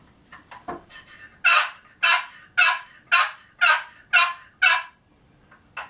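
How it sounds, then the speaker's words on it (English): Wild turkey gobbling outdoors: a few faint calls lead into seven loud, evenly spaced rattling gobbles, each strong and rising, close by with quiet background and no voices. "Turkey gobbled."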